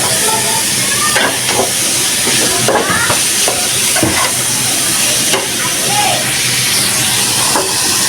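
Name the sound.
fish frying in spice paste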